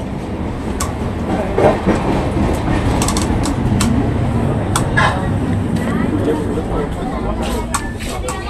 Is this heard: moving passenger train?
yes